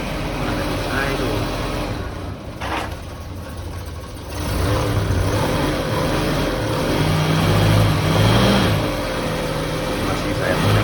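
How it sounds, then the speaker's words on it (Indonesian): A Suzuki Katana engine runs with the gas held open during a radiator coolant change. The close steady rumble rises and swells partway through, with a person talking over it. "masih saya tekan gasnya,"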